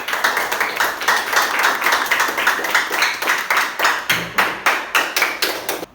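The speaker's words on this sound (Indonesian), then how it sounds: "Beri aplaus untuk kita semua" Classroom applause from students, a steady burst of many hands clapping close and loud for several seconds, ending in a few separate sharper claps.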